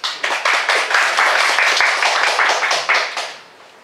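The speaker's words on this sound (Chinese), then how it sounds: "好，那我们现在掌声欢迎杨老师。" Lively audience clapping welcomes a university professor to the lectern at a public lecture, a dense burst of hand claps that starts sharply, holds steady for about three seconds, then thins and fades.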